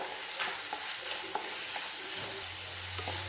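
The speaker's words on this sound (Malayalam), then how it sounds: "ആവശ്യത്തിന് സോസ് ആഡ് ചെയ്യുക. നല്ലവണ്ണം മിക്സ് ചെയ്യുക." Sauce is stirred and mixed in a pan for Maggi-flavoured macaroni, over a soft steady sizzle with a few light taps and scrapes from the utensil. The sounds are close and fairly quiet, with no voices.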